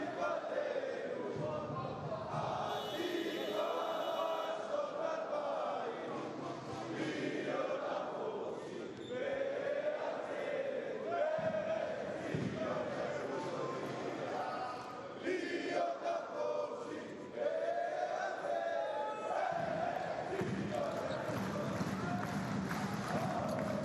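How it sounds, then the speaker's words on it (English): An arena crowd at a Basketball Champions League game between UNET Holon and SIG Strasbourg, a steady roar of cheering and chanting that swells and dips, with shoe squeaks and ball bounces mixed in. "And let's listen to the crowd."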